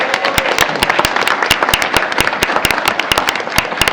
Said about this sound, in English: A round of applause for his family and his teammates who are up top there as well.